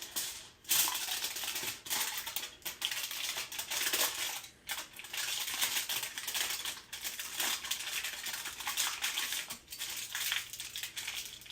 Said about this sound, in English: Test tubes 3 and 4, I'm going to wrap in tin foil and cover them up completely